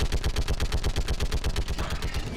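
Rapid, evenly spaced bursts from a mounted gun in Mass Effect, a loud, close machine-gun rattle of about twenty shots in just over two seconds, heard on its own without talk.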